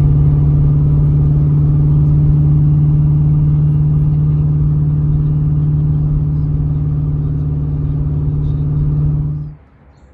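A New Edge Mustang's engine rumbling with a strong, steady low drone at close range for several seconds before fading quickly as the car drives away, no speech.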